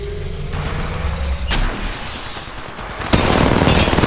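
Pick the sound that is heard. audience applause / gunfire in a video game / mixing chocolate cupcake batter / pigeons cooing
gunfire in a video game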